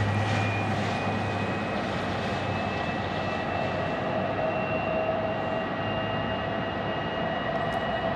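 A Southwest Airlines jet arrives at Phoenix airport, its engines producing a steady, loud roar with a faint high whine that carries unbroken throughout.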